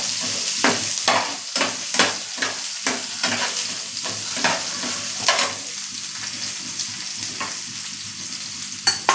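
Spoon stirring besan bhurji (gram flour scramble) with onion as it fries in a pan. Steady sizzling sits under repeated scraping strokes, rhythmic at first, then sparser. Close and clear, with no talking.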